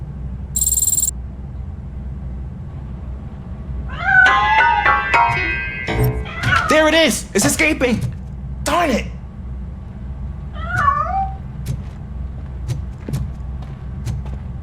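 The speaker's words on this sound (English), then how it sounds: "That cat must be hiding inside." A cat in the video game Robocop Rogue City meows in short rising and falling cries, one burst midway and another near the end, while someone talks excitedly over steady game ambience.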